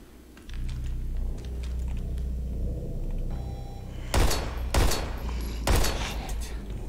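Pistol fire in the survival horror game Daymare: 1998, three loud sharp shots at irregular spacing over a steady low droning game ambience.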